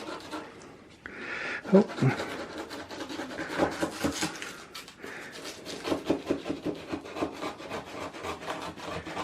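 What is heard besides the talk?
knife cutting sticky caramel brownies in a baking tray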